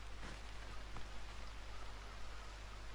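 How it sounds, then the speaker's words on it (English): Steady rain falling in the video game Assassin's Creed Odyssey, a continuous soft hiss of downpour with faint low hum beneath it and no voices. "Still pissing down with rain."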